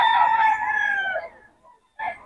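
A rooster at the Bocaue market lets out one loud, close crow that trails off. A short pause follows, then a second crow begins, with little else around it.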